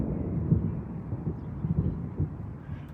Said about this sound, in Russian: Это гром, гремит.